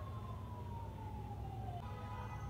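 A distant emergency siren wails with a slowly falling pitch over a low rumble of traffic.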